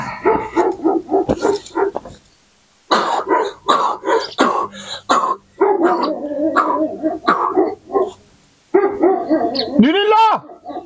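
A pack of six or seven dogs barks and yips in loud, close bursts with brief pauses between volleys, and a voice seems to be mixed in.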